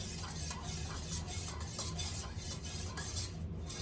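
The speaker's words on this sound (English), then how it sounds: "So we're gonna just do our thing, keep on stirring, keep on stirring." Candle wax mixture being stirred steadily in a container, a continuous scraping, clinking swirl that stays close and even throughout with no voices.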